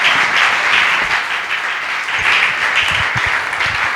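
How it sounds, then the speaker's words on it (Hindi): Loud, sustained applause fills a church congregation, a dense steady wash of clapping that holds at full strength for several seconds with no one speaking over it. "जोरदार तालियां बजा जोरदार।"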